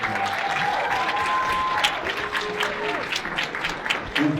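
A concert audience at a birthday tribute concert for Florence Price claps loudly and steadily. Dense applause fills the whole clip, with a few voices calling out over it.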